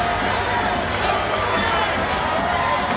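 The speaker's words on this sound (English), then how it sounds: "Crowd on its feet. They're smelling it." A basketball arena crowd on its feet in the final minutes of a Houston Rockets vs Memphis Grizzlies game, a dense, loud, continuous roar of cheering with a commentator talking over it.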